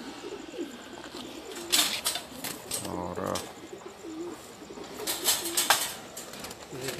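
Sialkoti and Zeera pigeons coo on a rooftop in soft, low, throaty phrases, with one fuller coo standing out near the middle, while someone speaks briefly nearby over light outdoor background noise.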